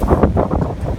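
Brief gusts of wind rumble against the microphone outdoors, a loud low buffeting that swells and fades in quick pulses.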